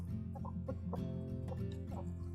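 Several chickens cluck in short, overlapping bursts close by, a busy steady chatter of hens with a low hum running underneath.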